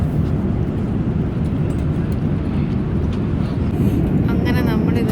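Airplane cabin on a seven-hour flight from Dubai to China: a steady, dense low engine and air roar fills the cabin throughout, with faint incidental sounds near the end.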